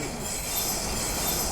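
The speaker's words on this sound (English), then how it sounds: "Hey, a train!" A passing train rumbles and clatters close by, a loud, dense wash of rolling noise with metallic squeal, steady and unbroken throughout.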